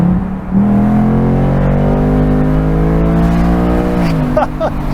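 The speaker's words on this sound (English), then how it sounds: "this V8 is gonna fight to every last rumble that it can" The 5.0-litre V8 of a 2024 Ford Mustang convertible drones loud and close in a sustained, rumbling tone, with the pitch climbing and shifting near the end as the revs change.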